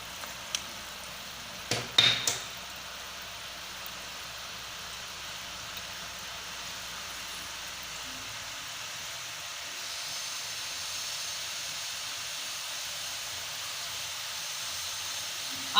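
Chakli, a spiral-shaped fried snack, frying in sunflower oil: a steady, soft bubbling hiss continues throughout, preceded by a few sharp clicks near the start.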